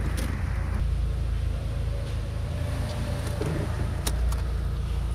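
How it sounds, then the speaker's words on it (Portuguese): An Audi A3 with an automatic gearbox, which had been stumbling at start-up and was treated with a decarbonization cleaning, idles smoothly with a constant low, even rumble close by and no talking. "Marcha lenta perfeita"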